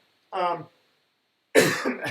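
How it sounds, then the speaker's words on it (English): A person coughs twice, close to the mic, with a brief quiet pause between the coughs. "I'm still getting over the cough."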